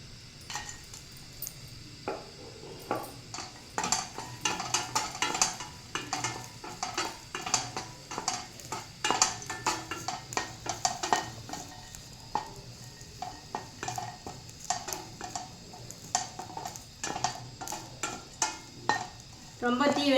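Dal and garlic dry-roast in a pan over medium heat, with scattered stirring scrapes, clinks and light crackles in an irregular rhythm, fairly close and moderately quiet.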